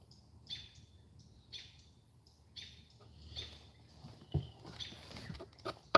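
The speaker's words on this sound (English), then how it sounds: "these robins are kicking up a bit of a fuss because the owl's hanging around" Agitated robins give repeated sharp, high chirps at roughly one-second intervals, fairly faint and somewhat distant, with an owl hanging around nearby in the Gulf Islands of the North Pacific, over a low background hum.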